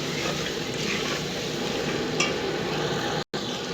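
Tomato masala for chicken karahi frying and being stirred in a pan, a dense close sizzle running steadily with faint stirring scrapes and one short gap.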